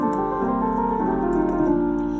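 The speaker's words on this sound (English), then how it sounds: "today I want to teach you a very nice piano lick you can use" A piano plays a lick with passing notes over a 6-2-5-1 progression in F, full sustained chords with a moving melodic line, heard alone.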